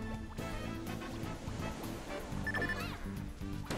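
Waterfall in the Wii U game Kirby and the Rainbow Paintbrush, heard as a constant broad rushing roar beneath layered game music and a brief chime-like tone.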